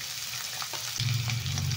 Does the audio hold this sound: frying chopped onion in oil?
yes